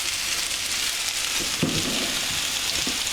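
Potatoes and spring onion fry in a pan, giving a steady close sizzle with a few soft stirring scrapes partway through and no talking.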